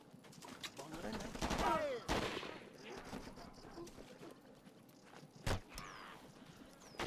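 Enemy gunfire in the video game Shellshock 2: a few sharp gunshot bursts mixed with game ambience and voices, loud and close.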